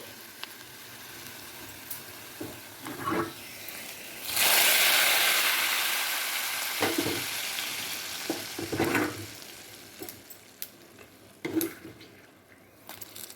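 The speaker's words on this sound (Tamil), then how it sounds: "நல்லா வேகட்டும் பாருங்கள் வெங்காயமெல்லாம் நல்லா வதங்கிட்டு" Onions sautéing in a pan for sambar, a steady sizzle rising to a louder burst of frying midway, with occasional stirring knocks and scrapes throughout.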